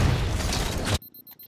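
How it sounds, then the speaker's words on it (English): A grenade goes off in Halo 4 with a loud, heavy boom lasting about a second, then cuts to near silence with faint clicks. "And then I get a really, really lucky grenade."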